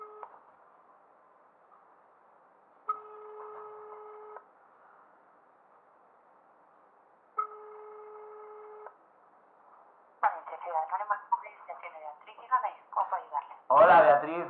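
A telephone call plays through a speakerphone, with two long ringback tones separated by a hiss-filled line, after which voices come on the call.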